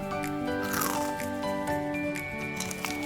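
Crunchy deep-fried lotus root is bitten and chewed with crisp cracking crunches over a steady background of music and voices.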